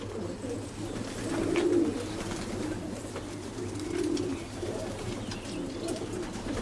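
Low, soft cooing from a blue racing pigeon rolls out in two drawn-out bursts over a steady, murmuring background, moderately close.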